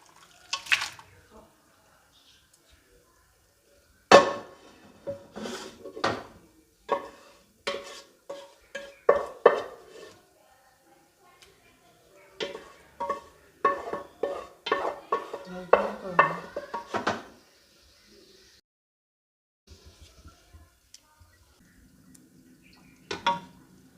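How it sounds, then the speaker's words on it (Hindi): Boiled beef is tipped into a kadhai and stirred, giving sharp intermittent clinks and scrapes of a spoon against the metal pan, in irregular bursts separated by quiet gaps. "इसे कढ़ाई में हम पलट लेंगे।"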